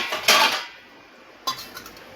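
Metal dishes, bowls and utensils clink and clatter as they are moved around in a home kitchen while making tea and samosas, two brief bursts of handling separated by a quiet pause, fairly faint.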